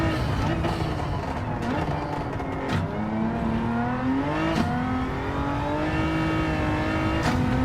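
A Hyundai car's engine in Gran Turismo 7 drones and revs continuously through the gears, the pitch rising and dipping as it accelerates, loud and close throughout.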